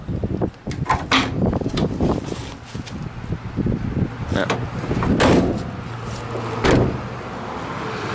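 Rear doors of a van swing open with clunks, latch clicks and metallic rattles spread over several seconds, close by, and a person speaks briefly in between.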